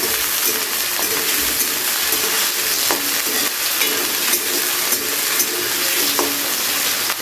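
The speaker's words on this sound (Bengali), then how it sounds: "আলুটাকে একটু হালকা করে আগে ভেজে নেব।" Potatoes frying in a pan give off a loud, dense, unbroken sizzle, close up, with occasional light clinks and scrapes as they are stirred.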